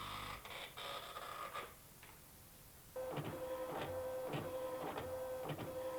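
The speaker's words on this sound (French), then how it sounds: "Les ordinateurs créent ainsi des protocoles détaillés qu'ils présentent sur des imprimantes." Computer printers in a power-network control room print detailed event logs, with rapid rhythmic mechanical chattering and steady whirring. A brief lull comes before a louder, continuous run of repeated printing strokes.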